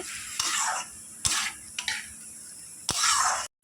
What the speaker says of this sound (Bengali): হলুদ দিয়ে এখন নাড়াচাড়া করে